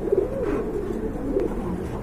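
Pigeons coo at a market selling domestic and foreign breeds, a few low rolling calls close by and moderately loud, alone without talk.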